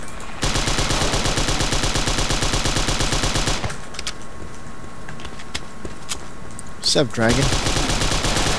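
Sustained rapid automatic fire from a Sten gun in the World War II dinosaur shooter game Dino D-Day, loud and close in long bursts, then scattered distant shots and a brief spoken line before firing resumes.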